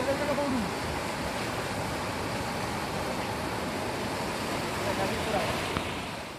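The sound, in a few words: river water flowing after heavy rain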